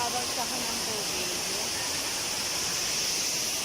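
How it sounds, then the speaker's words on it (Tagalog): Water falls and splashes steadily in an outdoor spot near Baler, a constant broadband rush heard up close with no break. "May babagsak ng tubig."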